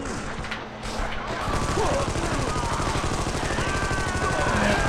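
Rapid, sustained gunfire in a LucasArts video game, dense machine-gun bursts and bullet impacts rattling continuously at steady loudness, with a voice talking faintly underneath.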